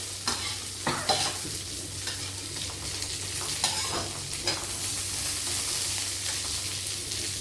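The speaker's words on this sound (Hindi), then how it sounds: "ये जो मूली है मेरी, इसको डाल देते हैं और हल्का सा इसको फ्राई कर लेते हैं" Radish pieces lightly frying in a pan over a low gas flame, a soft continuous sizzle with repeated scraping stir strokes and small clinks from a spatula.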